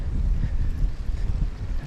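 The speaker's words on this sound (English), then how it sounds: "there's a big gust right now" Strong wind gusting across a GoPro microphone fitted with foam covers and a furry wind cover, a continuous low roaring buffet that swells and dips without letup, close and fairly loud.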